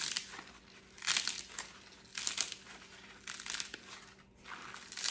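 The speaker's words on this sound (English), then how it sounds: "You're gonna take your loofah and it's gonna crunch when you squeeze it." A dried loofah sponge crunches when squeezed by hand, crisp crackling bursts repeating in a steady rhythm of about four squeezes, close and fairly quiet with no voice.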